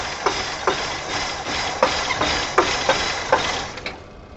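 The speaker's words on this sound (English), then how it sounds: "I tried to start my damn car, and the damn engine seized up on me" A car engine fails to start and seizes up, giving a series of irregular mechanical clunks and knocks over a steady hiss that cuts off abruptly at the end.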